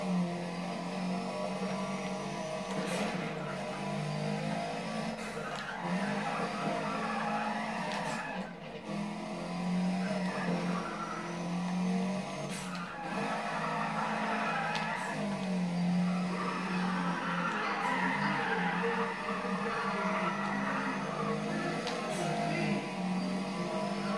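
A car does a burnout with its rear tires spinning in the racing game Need for Speed ProStreet, giving a steady, loud engine roar and tire squeal that hold for the whole stretch without talk.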